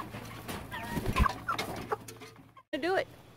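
Chickens cluck and murmur around a homemade 5-gallon waterer, a busy close-up mix of soft clucks and short squawks from the flock.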